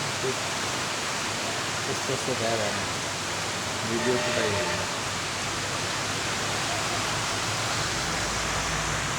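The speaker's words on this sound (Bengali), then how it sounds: "রংপুর শহরে সেই বৃষ্টি হচ্ছে" Heavy rain pouring over Rangpur city, a dense, constant broadband roar throughout, with someone talking briefly underneath.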